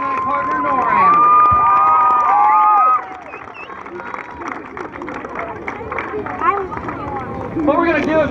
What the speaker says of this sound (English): Let's give a big round of applause for Officer Hill and his canine partner, Noran.